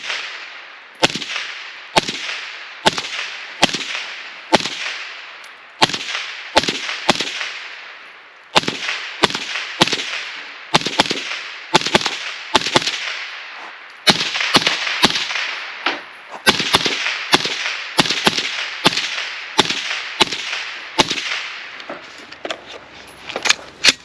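Rifle gunshots fired through a high-rise red dot optic setup, a long series of sharp, loud cracks in quick irregular bursts with short pauses between strings, each shot ringing briefly before the next.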